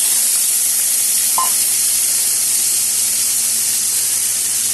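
Potato pieces frying in hot oil with a bay leaf, a dried red chilli, whole cumin and a pinch of salt, giving a steady, loud, close sizzle that holds evenly throughout with no talking.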